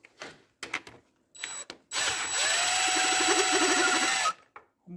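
A power tool, likely an impact driver, whirs steadily for about two seconds close by while a Honda CR-V air box is being removed, with brief clanks and handling noises before and after.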